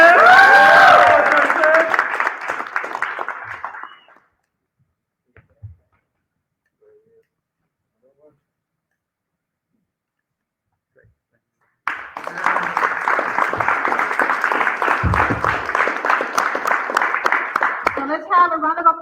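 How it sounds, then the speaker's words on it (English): A crowd at a graduation celebration breaks into dense, sustained clapping after a voice, then falls silent for several seconds before a second long round of applause. "let's have a round of applause for all the graduates"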